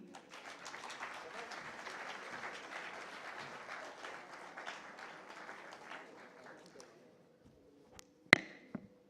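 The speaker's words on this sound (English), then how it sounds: "A large round of applause, please." Audience applause at a conference hall, a broad sustained clapping from many people that slowly thins out and stops, followed by a few sharp taps and bumps near a microphone.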